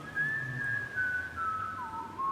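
A single steady whistled tune in a song, clear and fairly close, with long sustained notes that slide gently downward over a faint background hum.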